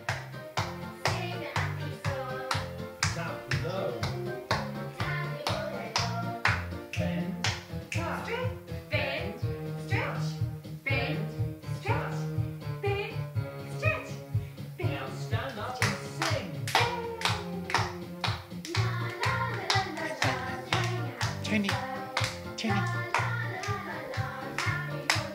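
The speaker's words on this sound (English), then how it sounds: "I'll clap on the floor." Steady hand claps and taps on a floor keep up a fast, continuous rhythm at close range, with a voice heard now and then alongside them.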